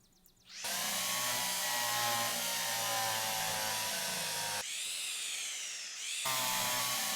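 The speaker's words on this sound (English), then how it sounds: "Where's my drill? There's my drill." A power drill in a train-driving video game whirs loudly and continuously while fixing a gadget inside a locomotive cab, its pitch shifting briefly before the motor spins back up.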